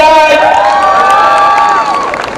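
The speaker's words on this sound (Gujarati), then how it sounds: "પ્રિન્સ અને પ્રિયાંકા પંચાલ બ્રધર્સ માટે એક તાળીઓ થઈ જાય" A crowd at an evening college cultural programme cheers loudly for a short burst, topped by a shrill sweeping whoop.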